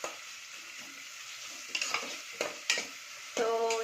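Chopped onions and green chillies stir-fried in hot oil for a kheema aloo curry, a steady close sizzle broken by several sharp stirring scrapes of a utensil against the pan, louder toward the end.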